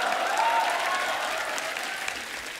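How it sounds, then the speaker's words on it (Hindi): Studio audience applause fills a television comedy talk show set, a dense, steady wash of clapping that stays loud throughout and eases only slightly toward the end. "आप सबकी जोरदार तालियां, बहुत बहुत स्वागत है आपका।"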